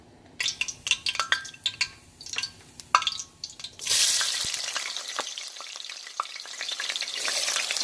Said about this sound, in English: We're cooking our tomato here while our beef is getting ready over here.